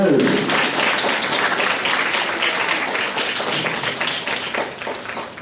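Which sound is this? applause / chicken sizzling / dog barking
applause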